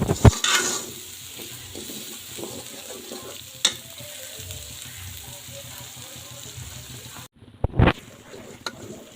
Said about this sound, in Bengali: আবারও মশলাগুলো একসাথে একটু ভেজে নিচ্ছি